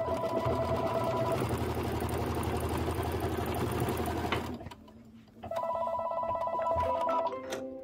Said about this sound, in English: now it's going to do the outline stitch around the whole thing